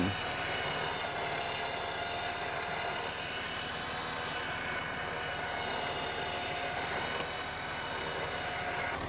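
A Ford Wildtrak pickup engine runs steadily with a broad, continuous rumble and roar while the truck is started and eased away, loud and unbroken throughout with no voices.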